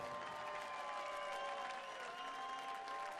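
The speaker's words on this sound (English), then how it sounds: "Ladies and gentlemen, give it up one more time for Big Willie, William Borland." Crowd applause at a professional darts tournament, the 2021 Hungarian Darts Trophy, a steady dense clapping roar filling the hall throughout with faint crowd noise.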